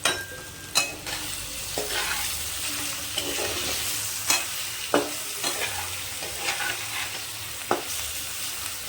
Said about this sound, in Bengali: এটাকে ভালো করে নাড়াচাড়া করে নেব।